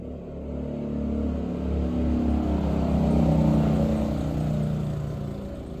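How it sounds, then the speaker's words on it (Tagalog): Cars pass along the road one after another, a steady engine rumble and tire roar swelling and fading as vehicles go by at moderate distance, with no talk over it. "Daming mga sasakyan na dumadaan guys,"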